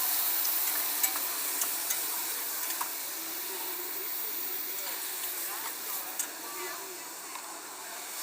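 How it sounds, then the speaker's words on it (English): Mushrooms cooking down with marsala wine in a pan at a food expo cooking demo, producing a continuous soft hiss and sizzle with light stirring ticks and faint voices in the background. "Now I'm going to add our marsala wine. And we're going to let that cook down."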